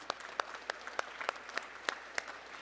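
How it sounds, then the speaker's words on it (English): Audience applause at a community trivia event: sparse, scattered claps in a fairly quiet room, individual sharp hand claps spaced irregularly rather than a full ovation, faint and alone without talk. "Round of applause."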